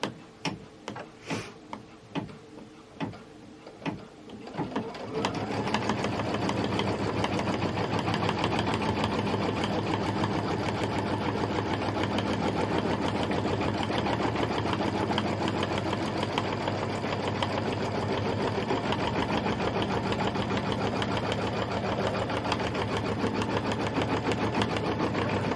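Embroidery machine stitching a placement line in red thread for a mug design: a few separate clicks and knocks at the start, then a steady fast mechanical whirring hum with a rapid ticking pulse, loud and close, no voices.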